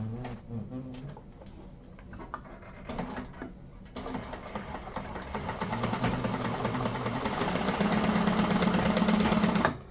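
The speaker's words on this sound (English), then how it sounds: "we're going to sew across that with 1/4 inch seam allowances" Sewing machine running steady stitches across a 1/4 inch seam joining handbag panels, a continuous mechanical whir that grows louder and denser toward the end, with faint voice early on.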